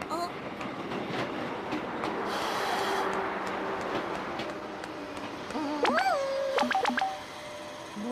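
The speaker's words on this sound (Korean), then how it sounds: "지금 열차가 들어오고 있어" A train rumbles into a station with steady broadband noise, followed by a few loud, sharp electronic chime-like tones near the end.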